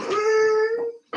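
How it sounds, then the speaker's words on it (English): A dog lets out a single drawn-out whimper, a clear high whine held for about a second, then cut off by a short noisy burst. "That was my dog."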